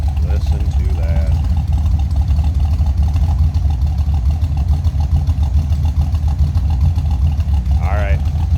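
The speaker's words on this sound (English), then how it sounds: "Tough to beat the sound of a 302 with a nice exhaust system on it." A 1964 Ford Falcon Futura with a 302 V8 and aftermarket exhaust idles nearby in a deep, steady rumble, while brief chirping sounds appear over it near the start and near the end.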